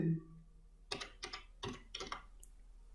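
A computer keyboard is tapped in a quick cluster of four or five distinct keystrokes, close and clear against a quiet room, while entering a formula in an MS Word table.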